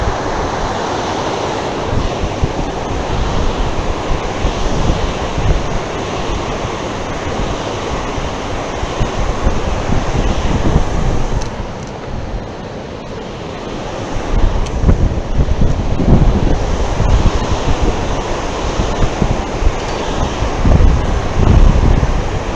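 A river rushes and churns in a steady, loud broadband roar, with wind buffeting the microphone and a brief dip in intensity midway before the flow swells again.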